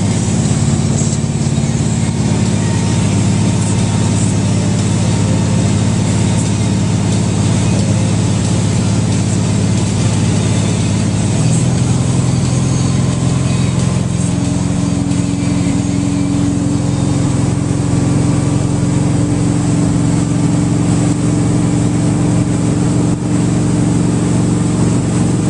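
A Supreme V226 wakeboard boat engine drones loudly and continuously at a steady cruising pace on a lake, with a slight shift in pitch partway through.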